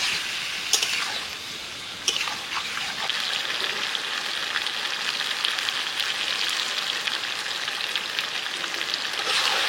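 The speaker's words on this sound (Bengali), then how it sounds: "একটু ভালোভাবে কষিয়ে নিতে হবে।" Desi chicken with spices sautéing in a pan, frying steadily with a dense, continuous crackling sizzle throughout, plus a few sharp clinks from stirring near the start and around two seconds; close and fairly loud, no talking.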